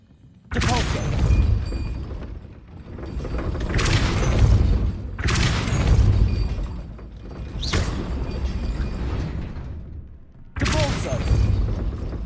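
Hogwarts Legacy's Depulso spell, cast repeatedly: five loud blasting bursts about every two and a half seconds, each a broad whooshing boom that trails off, with game noise underneath.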